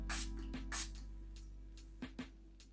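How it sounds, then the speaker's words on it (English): A makeup setting spray pump with chamomile and aloe vera gives several short, sharp spritzes, bunched early and then in a pair near the end, close and fairly quiet with no talking. "The spritzer seems a bit aggressive, but yeah, it's fine."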